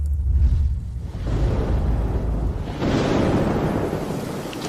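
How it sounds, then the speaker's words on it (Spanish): Heavy rain pouring with deep rolling thunder, a dense roaring wash that swells and surges in waves, loud and close throughout, without voices. "Llueve demasiado."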